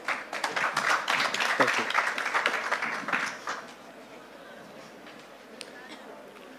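Audience applause after a startup pitch at a social-inclusion startup challenge: a dense burst of clapping for about three and a half seconds, then fading as a speaker begins talking.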